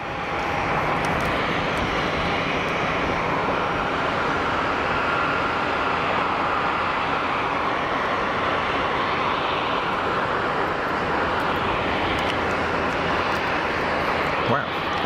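An Air Dolomiti airliner taxis at Geneva Airport, a steady broadband jet engine roar holding constant throughout, fairly loud and continuous with faint voices mixed in.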